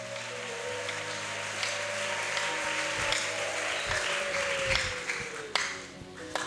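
A church congregation applauds in a sustained wash of clapping under a lingering organ-like tone, fading slightly toward the end with a few sharper claps.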